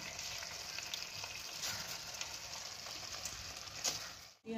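Soaked Gobindobhog rice is stirred into fried masala in a pan for prawn pulao, a soft, steady sizzle with faint scraping strokes that cuts off abruptly at the end.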